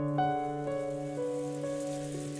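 Rain falls steadily on a rose garden in Umineko When They Cry, a soft wash under sustained tonal music whose chords shift every half second or so, with no voices.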